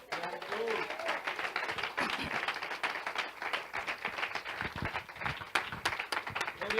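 A church congregation at a prayer service claps together in quick, uneven bursts, with a voice speaking loudly over the applause throughout.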